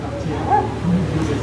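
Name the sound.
dog barking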